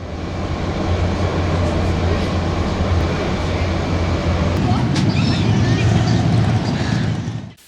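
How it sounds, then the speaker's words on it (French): Tram running on its own dedicated track along a nearly straight line out of town toward the seaside resort of Glenelg, a steady loud rolling rumble with wheel-on-rail noise throughout, fading at the very end. "la ligne du tram passe en site propre et est quasiment en ligne de droite"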